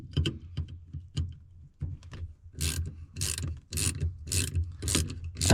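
Hand ratchet loosening a shock absorber bolt on a Renault Twingo, a series of close clicking ratchet strokes, sparse at first and then faster, louder rhythmic bursts.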